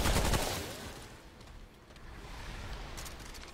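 Gunshots in the Remnant: From the Ashes swamp boss fight, a loud burst of close shots at the start giving way to quieter rumbling, with faint further shots near the end.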